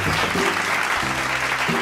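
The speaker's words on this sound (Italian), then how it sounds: "Un bel applauso al signor Dino, bravo uomo" A small group applauds for a man during a phone call at home, a steady patter of clapping under faint background tones and murmuring.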